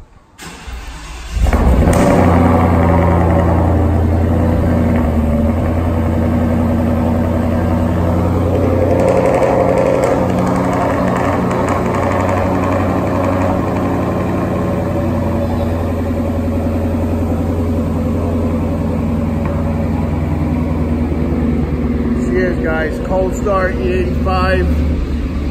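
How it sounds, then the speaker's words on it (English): A car's engine cold starts on E85 fuel, cranking briefly before catching into a loud, rough idle that settles into a steady, throaty rumble, with a person talking over it. "I'll do a cold start for you guys."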